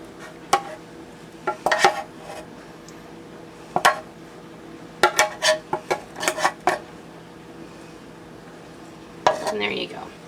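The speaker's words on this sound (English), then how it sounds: "I'm gonna just kind of scrape the pan out of it." A spoon scrapes cream cheese flan out of a pan in short, irregular bursts of scraping and clinking metal, with quiet pauses between them.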